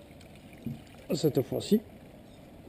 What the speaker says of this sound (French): On va mettre encore un peu d'eau pour le rincer